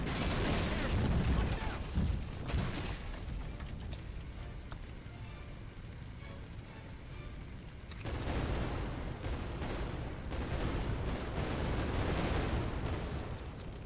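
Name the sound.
small explosions in a shed, from video game Firefighting Simulator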